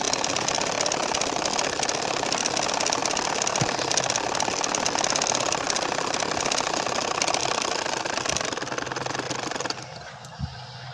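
A sewing machine runs steadily, stitching parallel lines half an inch apart across a baby nakshi kantha quilt, a dense continuous mechanical whir that holds for nearly ten seconds before cutting off into quieter room noise.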